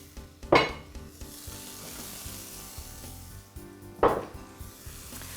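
Zucchini and summer squash frying in a pan give a steady, moderate sizzle, broken by two louder bursts of stirring and scraping about three and a half seconds apart.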